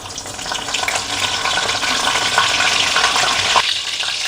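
Cumin, mustard seeds and curry leaves spluttering in hot oil for a potato bhaji, a loud, dense crackling hiss that carries steadily throughout without any speech.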